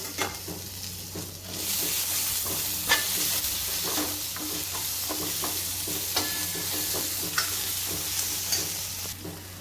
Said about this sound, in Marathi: टमाटे छान असे परतून घ्यायचे फोडणीमध्ये